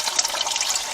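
Water seeps and trickles from a crack in the wall of an old springhouse, a close, steady hiss of running water with no voices.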